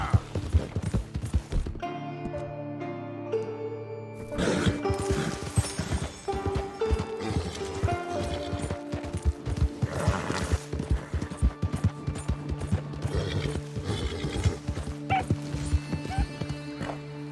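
Horse hooves gallop in Red Dead Redemption 2, a steady run of clip-clop beats layered over game music and ambience that continues throughout.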